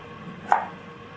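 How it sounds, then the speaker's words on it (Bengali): A knife chops garlic cloves and a piece of ginger in a home kitchen, heard as a single soft, close cut against the board amid quiet room tone. "এখানে আমি নিয়েছি কয়েক কোয়া রসুন, আর এই যে এক টুকরো আদা। তো এগুলো আমি এভাবে একটু কেটে নেব।"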